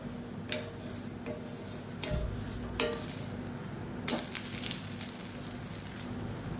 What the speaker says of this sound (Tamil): இப்போ தோசை ஒரு சைடு வெந்துடுச்சு திருப்பி போட்டுக்கலாம்